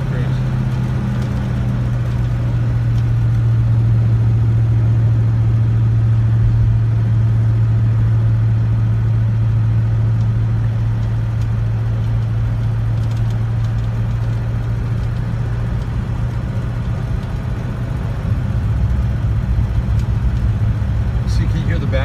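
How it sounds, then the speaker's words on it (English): An old car's engine drones steadily and loudly from inside the vehicle while cruising in third gear, a constant low hum with road and wind noise and audible exhaust back pressure. "It's in third gear and we've taken off and the engine is actually slowing us down a little bit."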